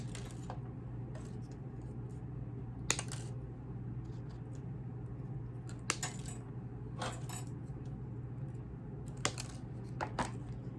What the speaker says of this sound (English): I'm just going to cut the wires off at the stems